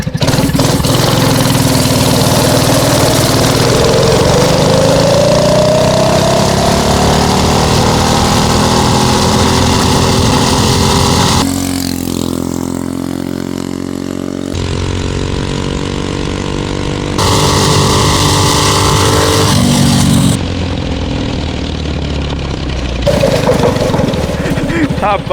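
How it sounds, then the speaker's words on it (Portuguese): Engine of a homemade go-kart built from a window frame and cheap parts, starting and revving hard and close, rising and falling in pitch with uneven bursts of acceleration. "Ligando os motores."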